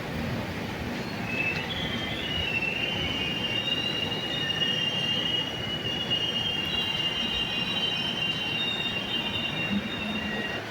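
Velankanni–Vasco da Gama express pulling out of Tiruchirappalli Junction, its wheels squealing in a steady high whine over continuous rumbling rail noise, loud and close, with no voices.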